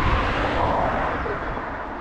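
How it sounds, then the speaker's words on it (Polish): A small skydiving plane drones overhead, a steady broadband engine roar that fills the whole stretch and fades slightly toward the end. "A tam lata samolot, który pewnie jak przeleci tu, wyrzuci chłopaków i dziewczyny."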